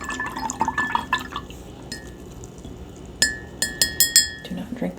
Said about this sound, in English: Make sure the brush is cleaned out.